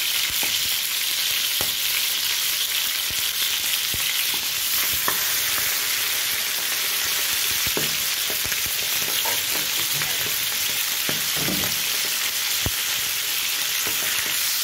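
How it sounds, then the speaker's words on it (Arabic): Onions fry in a pan for Egyptian mahshi, a dense, loud, continuous crackling sizzle up close, punctuated by faint clicks and brief stirring knocks, with no one speaking. "انا عايزه احمرها تحميره حلوه"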